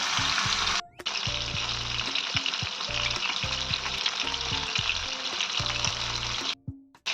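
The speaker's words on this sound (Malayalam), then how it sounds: "നമുക്ക് 2 ബാച്ചായിട്ട് ഫ്രൈ ചെയ്തെടുക്കാം." Fish pieces shallow-frying in hot oil for Kerala fish molly, a loud, dense sizzle running steadily close up, with a rhythmic low clatter throughout and short breaks near the start and end.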